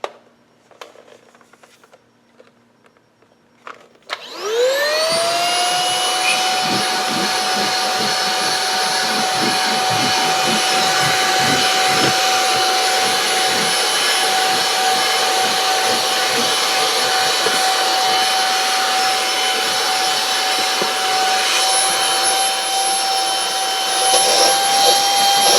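An Aspiron cordless stick vacuum with a 250W brushless motor switches on after a few quiet seconds and keeps up a loud, steady, high-pitched whine as it sucks crumbs from a car trunk's carpeted floor, with no talking.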